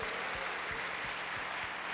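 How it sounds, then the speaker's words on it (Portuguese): A church congregation claps continuously in a dense, even burst of applause, with a faint rhythmic thump in the background. "Vamos dar mais um aplauso a Deus"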